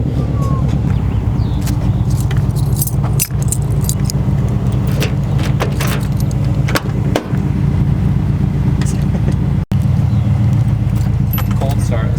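A Toyota car starts on a hot day amid loud, close metallic jangling of keys, with the engine's low rumble running steadily underneath and a brief break near the end; people talk at times.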